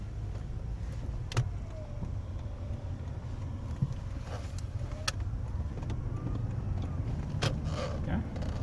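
A 2005 Lexus ES 330 cruising on a road, with steady low tire and engine rumble filling the cabin and a few faint clicks and rattles over it.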